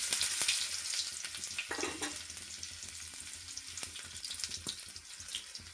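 Fenugreek seeds and onion frying in hot oil, a steady close sizzle throughout with occasional stirring clicks and scraping against the pan, no talking.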